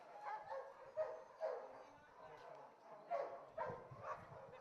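Dogs at an adoption event bark and yip in short bursts, fairly faint and mixed with people talking nearby.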